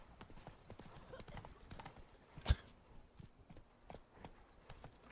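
Roach, a horse in The Witcher 3: Blood and Wine, runs with quiet, steady hoofbeats under faint ambience, broken once by a single sharp loud thump.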